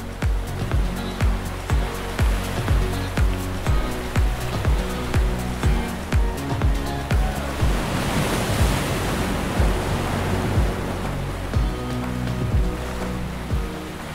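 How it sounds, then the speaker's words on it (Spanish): Sea waves washing onto the shore of Cozumel island in the Caribbean, a steady roar of surf with rhythmic low thumps and a swelling breaker midway, near and continuous without talk. "verdaderamente relajarte con el sonido del mar"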